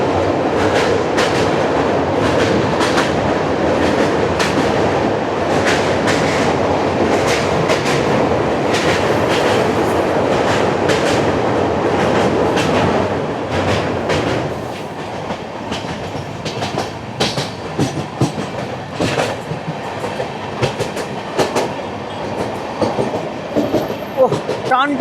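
An LHB-coach express train crossing the Netaji bridge rolls on with steady clickety-clack wheel rhythm and loud rumble, easing somewhat in the latter half.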